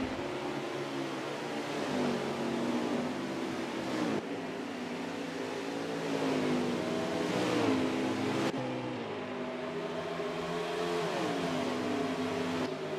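Stock cars in a Cup Series race at Watkins Glen road course, engines droning steadily with rising and falling pitch as they run nose to tail through a lapping move, a continuous loud mix of several cars with no talk.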